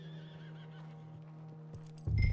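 A horse whinnies in a Red Dead Redemption 2 Western scene, a wavering neigh held over a steady low tone, followed near the end by a sudden louder thump and a clatter.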